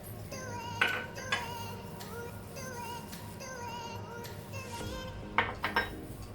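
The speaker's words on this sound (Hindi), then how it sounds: "इसको थोड़ा मिक्स कर लेते हैं राइस फ्लावर में मसालों को।" Spices being stirred into rice flour in a bowl, with repeated clinks and scrapes of a spoon against the bowl's rim in short bursts, close and fairly quiet, with no voices.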